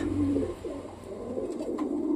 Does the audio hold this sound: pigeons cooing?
yes